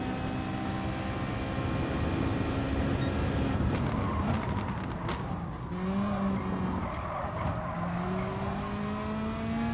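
Racing cars battle an Audi for first place in Gran Turismo Sport, engines roaring steadily and close with rising and falling pitch as gears shift, tires squealing briefly mid-pass.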